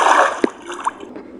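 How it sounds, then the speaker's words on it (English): Water placed in Minecraft gives a short liquid splash and slosh, one clear splash followed by a softer gurgle, close and fairly loud in a brief moment. "maybe let's just put some water over here"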